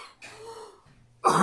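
One person coughs a few times in a quiet room, with short breathy bursts separated by brief pauses and a louder final cough.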